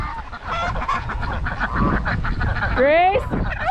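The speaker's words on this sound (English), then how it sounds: "Wow, you guys are loud." Farm geese honking loudly and close by, repeated harsh nasal calls piling over one another with a noisy outdoor background.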